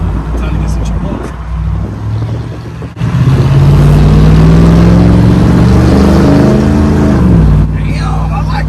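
A 2008 Ford F-150 with the 5.4 Triton V8 and a muffler-delete exhaust idles with a loud, raw rumble, then revs up into a sustained roaring climb and settles back. It is very close and dominates throughout.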